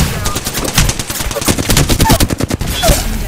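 Heavy gunfire in the battle royale shooter Apex Legends, rapid automatic bursts hammering in a fast, uneven rhythm, loud and close, with brief gaps between volleys and faint voice callouts mixed in.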